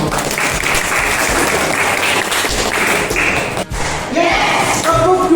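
Classroom group clapping hands on cue during a training session, loud dense bursts of claps with thumps and taps, a brief pause, then clapping resumes, with voices mixed in.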